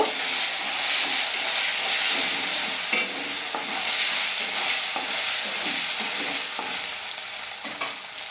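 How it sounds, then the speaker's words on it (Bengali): Ginger fries in a pan for a homestyle vegetable dal, a loud, close sizzle with repeated scraping and knocking as it is stirred, and no talking. "আমি এটা আদাটা একটু ভেজে নেব"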